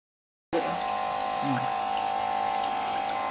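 Running water pours steadily from a tap while something is washed in a home kitchen, starting abruptly after a moment of silence and continuing as an even, close rush.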